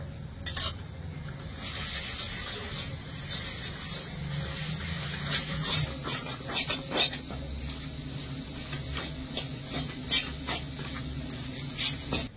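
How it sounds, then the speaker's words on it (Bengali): Ground lentil paste stirred and fried in a pan for dal puri, a steady soft sizzle with scraping and spatula clinks against the metal, continuous and close, with no talking. "এবারে নেড়ে ছেড়ে একটু ভাজা ভাজা করে নেবো এই ডালটা।"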